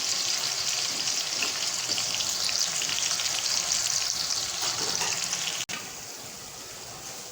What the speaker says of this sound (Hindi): प्याज को लाइट ब्राउन कर लेना है आपने।